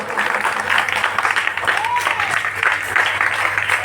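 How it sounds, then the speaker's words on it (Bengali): Applause for children performing the one-leg wheel yoga pose during a class, a soft crowd of clapping hands mixed with murmuring voices and brief speech, fairly steady throughout. "ওদের জন্য একটু হাততালি।"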